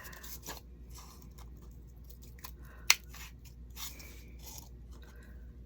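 Scissors cut through cardboard scored with a box knife in a craft setting, giving close, crisp snips and crunching rasps at an uneven pace. One sharp, louder snap stands out midway.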